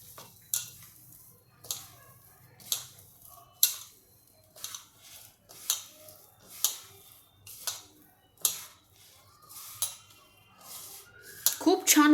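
A puffed rice thalipeeth mixture is stirred in a bowl, producing sharp, rhythmic clinks of a utensil against the bowl about once a second, close and fairly quiet between strikes.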